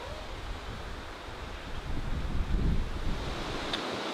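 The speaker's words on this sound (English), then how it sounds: "it's really windy today" Strong wind on a stormy day in the Costa Rican jungle, buffeting the microphone as a steady low roar that swells briefly midway, with no talk.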